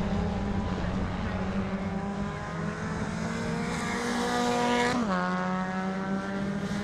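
Rallycross race cars roar along a circuit that switches between a loose surface and tarmac, one sustained loud engine note rising and falling through gear changes and a sharp dip near the end, with faint commentary underneath.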